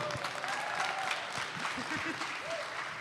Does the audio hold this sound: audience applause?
yes